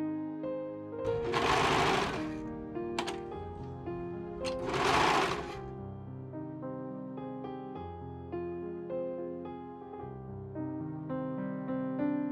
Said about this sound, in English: I start off the edge on the serger and then I stretch and sew to get the elastic to gather the fabric as I